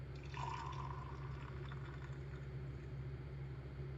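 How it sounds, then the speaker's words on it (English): Whiskey poured into a clear glass soap dispenser as a voice game sound effect, a faint liquid trickle and fill with a brief gurgle near the start over a low steady hum. "You pour whiskey carefully into the soap dispenser."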